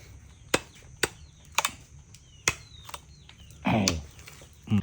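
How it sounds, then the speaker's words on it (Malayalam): A knife chops open a pink tender coconut on a small home farm plot: several sharp, separate hacks at irregular intervals, then a longer crunching split and a final cut, close and clear. "ചെറിയ കത്തി ഉണ്ടെങ്കിൽ അതുകൊണ്ട് വെട്ടിയാലും മതി"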